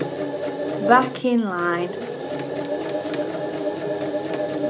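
A sewing machine runs steadily while stitching a curved seam, its even mechanical hum and needle patter continuing throughout, close and fairly loud, with a person briefly speaking over it.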